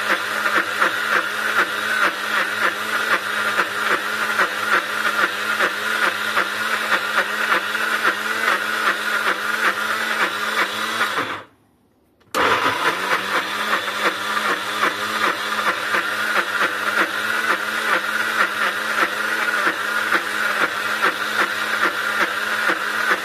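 A blender grinds peanuts into peanut butter with a loud, steady motor whine and a rapid pulsing churn. It cuts off briefly near the middle, then starts again at the same strength.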